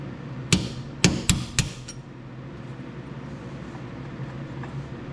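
Several sharp metal hammer blows on a small tapered punch drive a stuck roll pin out of a John Deere E100 series mower's hydrostatic brake lever, four close strikes in quick succession, then quiet workshop background.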